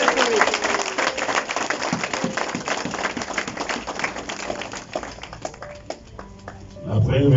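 Applause from an audience at the inauguration of a new embassy building of the DR Congo in Pretoria, South Africa: dense, steady clapping throughout that thins out near the end, with voices mixed in.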